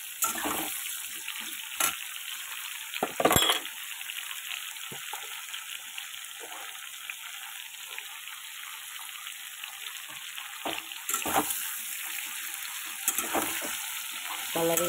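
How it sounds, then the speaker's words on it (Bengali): Chopped garlic, onion and green chili frying in a pan, a low steady sizzle with occasional sharper bursts of stirring and splattering, fairly quiet and without talk. "আর এই যে রসুন, পেঁয়াজ, কাঁচা লঙ্কা এটাও কেটে রেখেছি। এটাকে একটু ভালো করে ভাজা করে নিই"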